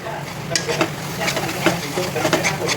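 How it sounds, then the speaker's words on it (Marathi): A thickening mango barfi mixture being stirred continuously in a pan over low gas, giving steady close scraping and soft sizzling with repeated spoon strokes throughout, no talking. "फक्त तुम्हाला एका गोष्टीची काळजी घ्यायची की हे खाली चिटकू नये, म्हणून सतत आपल्याला हलवत राहायचं आहे"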